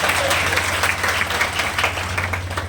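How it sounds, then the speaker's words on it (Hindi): Audience applause at a birthday anniversary event honouring a figure, with students present; dense, steady clapping from many hands fills the whole moment, fairly loud and close, with a low constant hum beneath. "मैं चाहूँगा एक बार जोरदार तालियों से सबका स्वागत करेंगे।"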